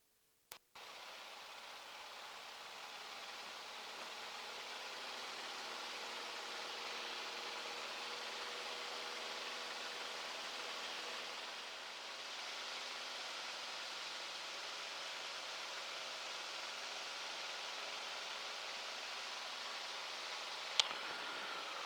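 A light aircraft, registration G-AYEH, rolls for takeoff at Leyland, a steady broad engine and airflow roar building after a brief click and holding evenly, with a sharp tick near the end and no talking.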